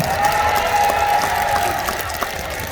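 Crowd applause at a seaside music festival on Ilgwang Beach in Gijang, Busan, a steady broadband wash of clapping with a sustained tone running through it, loud and continuous across the whole short stretch.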